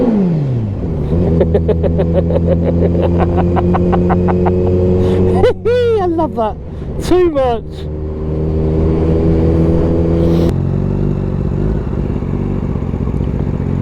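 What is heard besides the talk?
motorcycle revving in a short tunnel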